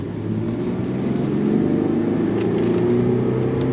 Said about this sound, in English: we're gonna go on throttle again through some twisty bits here